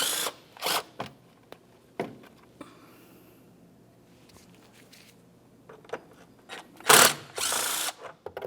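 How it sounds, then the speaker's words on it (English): A ratchet with a 10mm socket loosens bolts near the air inlet tube of a Nissan Titan: close, sharp clicking bursts come in separate short runs with pauses, and a longer, louder stretch of ratcheting comes near the end. "we'll use a 10mm socket along these two bolts"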